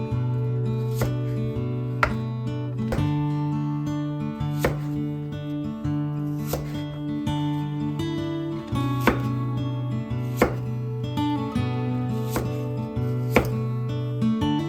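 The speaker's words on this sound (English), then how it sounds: "let's get the rest of these cut up" A kitchen knife chops food on a board in evenly spaced, sharp taps, heard over steady background music.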